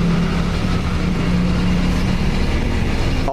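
Noisy, knocking CVT on a Honda Scoopy motorcycle running steadily, a dense mechanical rumble with a low hum throughout, close and fairly loud, with no talk.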